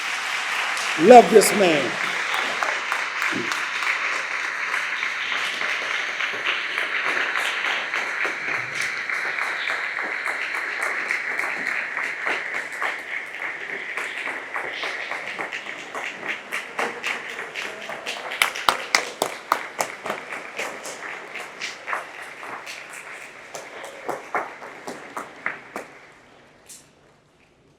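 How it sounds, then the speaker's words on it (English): An audience applauds the arriving governor of Maryland at a memorial dedication, broad steady clapping that runs nearly half a minute before tapering off, with a voice speaking briefly over it near the start. "Let's give him a round of applause"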